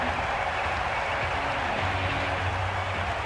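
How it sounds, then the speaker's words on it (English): In the Cricket 22 video game, a stadium crowd at a BBL T20 match between Melbourne Stars and Hobart Hurricanes gives a steady, dense roar of cheering and applause that holds evenly throughout. "Will you listen to the crowd?"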